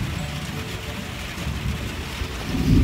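Steady heavy rain falling outdoors, a dense continuous wash of noise with low rumbling underneath that swells slightly louder toward the end, with no clear speech.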